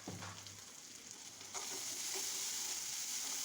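Chili and turmeric powder frying in a pan, with a steady hiss of sizzling and soft scraping from stirring, rising a little louder halfway through as the spices are worked in oil for a leafy bhorta.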